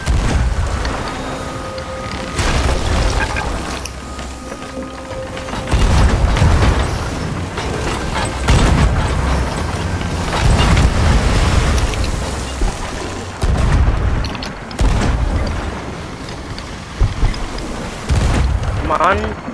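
Ship cannons firing in Sea of Thieves: heavy booming blasts recur across a dense, loud mix of rumbling game sound, with voices talking over the action.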